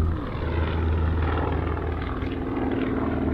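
A propeller aircraft flies past at Miskolc airfield, its engine a loud, steady droning hum heard close and continuous with no talk.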